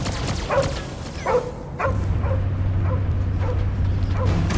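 A dog in the Guardians of the Galaxy video game gives a series of sharp barks and yips at a steady rhythm, set against a low droning game soundscape with no speech.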